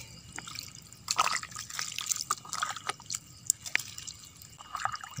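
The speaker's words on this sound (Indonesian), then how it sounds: "nah, kita siram-siram sahabat tani" Water drips and splashes in irregular bursts as chili and melon plants are watered, trickling and pattering onto the surface nearby.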